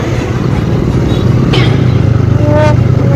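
Loud, steady motorcycle engine drone from a bike on a group ride, running close and continuous with a constant rumble and no talking over it.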